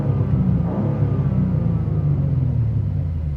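Exhaust of a 2023 BMW M2 heard from inside the cabin as a loud, steady low rumble under way, droning continuously with slight engine-note variation and no talking.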